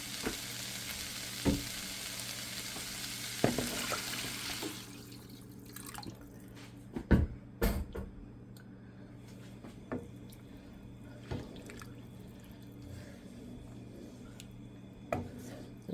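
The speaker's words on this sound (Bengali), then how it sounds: "এখন আমি গরম পানি দিয়ে দেবো" Hot water hits sizzling chickpea dal with vegetables in a pan, a broad hiss at first that settles within a few seconds into low bubbling, with scattered clinks of a spoon or pot through the rest.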